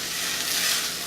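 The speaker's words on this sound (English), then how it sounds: "We are just stirring this so that it doesn't start burning." Food frying in a pan while being stirred gives a steady, close sizzle that holds evenly through the short stretch, with no voices.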